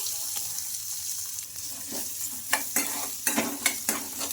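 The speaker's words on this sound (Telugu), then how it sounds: "ఇందులోకి జీలకర్ర ఆవాలు కూడా వేసుకోవాలి ఇంకొకసారి మొత్తం ఇలా బాగా కలిపేసుకొని కొంచెం పోపు వేగిన తర్వాత" Cumin and mustard seeds stirred in hot oil for an oats breakfast dish: a steady close sizzle with a run of sharp spatula scrapes against the pan that grows more frequent toward the end.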